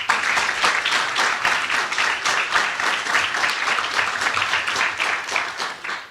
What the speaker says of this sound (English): I think we need to give a round of applause for Wandile